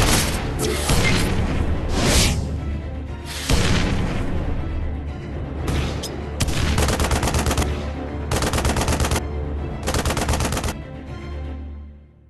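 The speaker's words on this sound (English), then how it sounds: "Barrage is incoming." Rapid bursts of gunfire and heavy booms fill an incoming artillery barrage in the video game Paladin Strike, loud and sustained with repeated machine-gun-like rattles and impacts, no talk.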